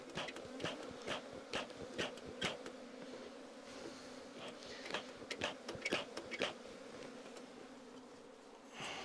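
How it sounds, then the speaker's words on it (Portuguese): Honeybees swarming thickly around a crooked hive frame, a dense close buzz with individual bees darting past the microphone, their pitch rising and falling, with no talk. "muita abelha ali no canto"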